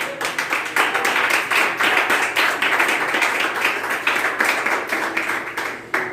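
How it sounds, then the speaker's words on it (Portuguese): A church congregation clapping in praise, with loud, dense applause and steady rhythmic claps continuing throughout. "você glorifica o Senhor com as suas palmas"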